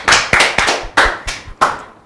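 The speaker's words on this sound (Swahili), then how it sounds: "Makofi." Applause at a gathering comes as a short run of about six sharp, separate claps at an uneven pace, close and loud, with no talking.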